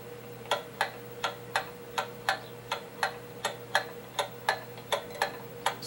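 A pendulum clock movement on the repair bench, being put in beat, ticks about twice per second in a crisp, even run of close, clear ticks over a faint steady hum.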